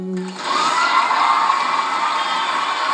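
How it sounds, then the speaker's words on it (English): A studio audience at a singing competition show roars and cheers loudly after a finalist's performance, a dense sustained wall of crowd noise with whoops that starts abruptly and holds steady throughout. "The crowd loved you, Lazaro."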